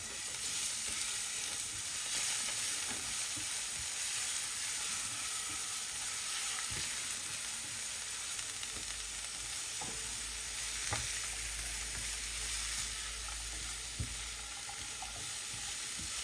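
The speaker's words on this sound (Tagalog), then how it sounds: "mag-stir fry muna tayo ng mga gulay. Bawang sibuyas." Vegetables, garlic and onion stir-frying for pansit, a steady loud sizzle throughout with scattered scraping and knocking from stirring.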